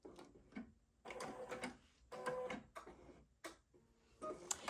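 An embroidery machine stitches perforation marks to show where fabric should be laid, running in short rapid bursts of rattling needle strikes separated by brief pauses, close and fairly loud.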